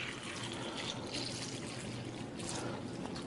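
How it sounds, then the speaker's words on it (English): Tap water pours steadily into a container, a continuous close splashing trickle with no talking. "we're just going to simulate that by pouring some tap water in here"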